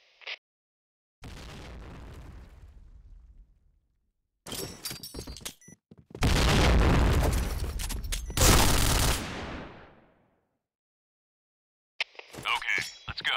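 Grenade blasts in a Counter-Strike-style team match on the Downtown map, a broadband explosive burst followed by loud, sustained booming from roughly six to nine seconds, with short bursts of gunfire and game effects before and after.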